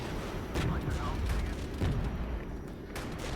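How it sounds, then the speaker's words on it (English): Artillery fire in the war video game Regiments: a loud, continuous barrage of heavy booms and rolling blasts with sharp impacts, while a voice talks over the bombardment. "There go the artillery."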